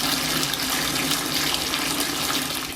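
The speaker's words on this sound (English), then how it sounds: "every time she turns on the faucet" Water gushing steadily from a faucet, a loud continuous hiss and splash with no pauses and no voices.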